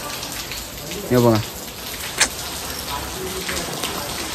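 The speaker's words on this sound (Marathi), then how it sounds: "नाही मोरका पाऊस आला आमचा इकडं." Heavy monsoon rain falls steadily during a traditional Agri-Koli Narali Purnima festival gathering, a dense hiss throughout with brief voices speaking over it.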